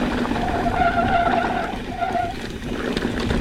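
Mountain bike tires skid and squeal under hard braking on a fast downhill dirt trail, a continuous gritty scraping with wavering squeal tones rising and fading across the whole stretch, close and fairly loud.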